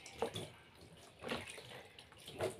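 Water poured over a four-month-old baby during a bath, soft splashing bursts arriving in three short pulses, close by and fairly quiet.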